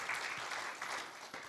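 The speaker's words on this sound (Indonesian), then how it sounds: "Berikan tepuk tangan" A church congregation at a Sunday afternoon service gives a burst of applause, a dense, even patter of many hands that fills the moment with no talking over it.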